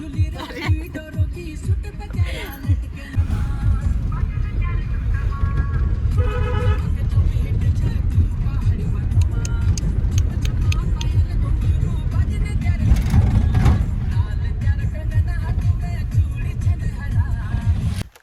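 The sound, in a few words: riding inside a car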